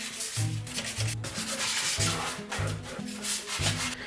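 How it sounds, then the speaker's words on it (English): Wet sandpaper rubs in quick back-and-forth strokes over a painted PLA 3D-printed RC car body, a steady rhythmic scraping heard up close with no voices. "Wet sanding again. Lightly knock down the uneven surface."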